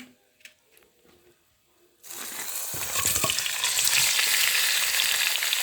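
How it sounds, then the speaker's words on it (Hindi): Quiet kitchen clatter, then a sudden loud hiss as chicken hits hot ghee, settling into a steady, vigorous sizzle that grows fuller and continues. "अब हम डाल देंगे चिकन"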